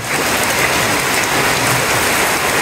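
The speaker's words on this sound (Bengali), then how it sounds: "বাইরে কি পরিমাণ বৃষ্টি হইতাছে" Heavy rain pours down steadily, a dense, constant hiss of drops drumming on surfaces with no break.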